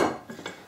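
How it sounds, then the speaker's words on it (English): A lid lifted off a big cooking pot of lentil, chorizo and potato stew, giving a short metallic clank and scrape that quickly fades. "I'm just going to take the lid off this"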